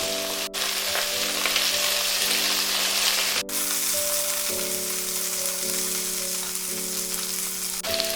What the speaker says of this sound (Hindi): मीडियम टू हाई फ्लेम पर हम इसे फ्राई करेंगे।